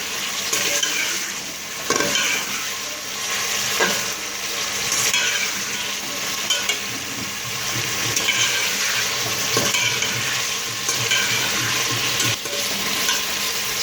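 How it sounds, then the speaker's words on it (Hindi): Chicken pieces fry with browned garlic in a pan, making a loud, continuous close-up sizzle with occasional scrapes and knocks as they are stirred. "चिकन हमारा भुन रहा है।"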